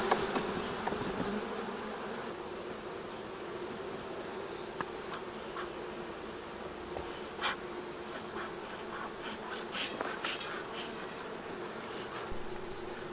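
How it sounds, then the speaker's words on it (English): Honey bees buzz steadily around a brood frame lifted from a hive, a continuous close insect drone with a few louder passes near the end. "What I'm going to do is shake off most of the bees on this frame and give this to the Marbled Hive"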